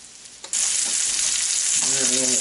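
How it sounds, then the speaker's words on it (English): Chicken pieces for chicken marsala hit a hot frying pan and break into a loud, steady, hissing sizzle that continues throughout, with a voice briefly audible near the end. "Once those start to sizzle, we're going to cook them for about 3 to 4 minutes on each side."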